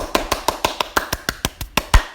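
A crowd's clapping for Yusuf Kala comes through as sharp, close handclaps, about a dozen in a quick, even rhythm, distinct and alone with no talk.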